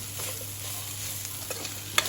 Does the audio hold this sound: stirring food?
yes